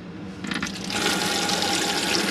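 Water runs steadily from a tap into the hand basin of a 2021 Malibu 640LE RB GT motorhome, a continuous close splashing hiss that swells slightly after the first second and holds alone with no talk.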